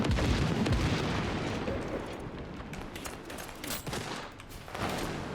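A dense, continuous barrage of gunfire and rumbling explosions in the video game Battlefield 2042 fills the mix, loud and chaotic with no pause.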